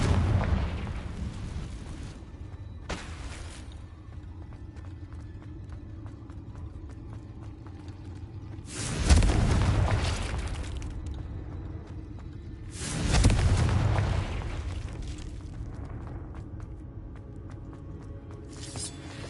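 Deep booming blasts of the Confringo explosion spell in Hogwarts Legacy erupt twice, each a heavy thud with a rumbling tail, preceded by lighter magical bursts over a low ambient hum.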